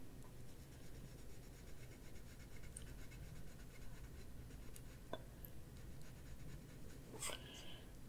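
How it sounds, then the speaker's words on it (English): A colored pencil drawing a line across paper on an adult coloring page, a soft, steady scratching that runs quietly and continuously with faint rubbing. "I'm just going to kind of draw a line across here"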